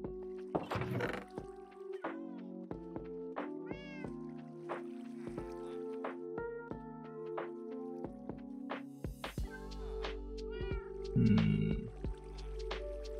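A cat in Minecraft meows repeatedly, several short plaintive mews scattered through the clip over a soft game music backdrop, with a splash of water sound near the end.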